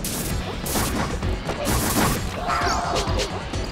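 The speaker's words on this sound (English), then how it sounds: "Lots of up smashing happening right now." Rapid smash attacks and hits from a Super Smash Bros. doubles match at a Smash Con tournament, a dense barrage of punchy crashes and whooshes layered over continuous game audio and crowd noise.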